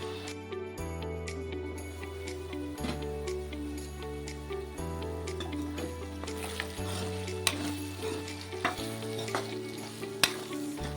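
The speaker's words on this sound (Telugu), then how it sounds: "ఇవి కూడా బాగా ఫ్రై చేసుకున్నాం బాగా మగ్గేదాకా ఫ్రై చేసుకున్నాం" Raw plantain pieces fry in a pan with steady sizzling and occasional stirring, close and continuous, over a quiet tonal hum in the background.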